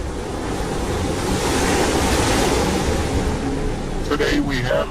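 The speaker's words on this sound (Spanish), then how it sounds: "Hoy tenemos a la tormenta tropical Beryl enviando estas olas que han arrastrado la arena de la playa" Ocean waves driven by tropical storm Beryl surge onto Rockaway beach in Queens, a loud, continuous roar of surf with wind buffeting the microphone throughout and a few sharper splashes near the end.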